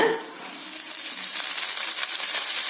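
Mint sautéed over medium flame in a pan with urad dal, green chili, garlic and curry leaves, giving a steady, close oil sizzle that runs alone throughout after a brief soft start, with no talking.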